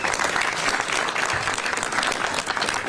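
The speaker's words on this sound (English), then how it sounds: "Big round of applause for her." Audience applause for District Attorney Brooke Jenkins at a San Francisco officials' event on sanctuary city status: a full, dense clapping from a sizeable crowd, steady and fairly loud throughout.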